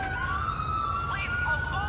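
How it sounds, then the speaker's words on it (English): A wailing police siren in a video game rises and falls steadily against a low rumbling background, moderately loud and continuous. "I hear sirens."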